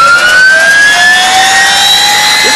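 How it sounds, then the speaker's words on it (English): An MTT Y2K turbine motorcycle starts up with a loud, piercing whine that climbs steadily in pitch as the turbine spools, heard close and continuous. "I would stay away from that exhaust when he starts it."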